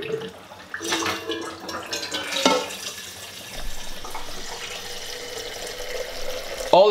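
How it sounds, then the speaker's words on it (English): Tap water pouring into a gooseneck kettle at a home espresso setup: a steady, hollow splashing stream with shifting tone as the kettle fills, close and moderately loud, with a few small clinks and no talk. "So I'm just gonna start filling it up with water."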